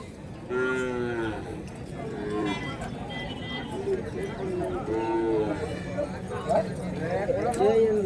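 Cattle and calves moo repeatedly at a busy Friday livestock and bull market in Kundarapalli, Krishnagiri district, Tamil Nadu, with drawn-out calls rising over steady crowd noise and nearby talk.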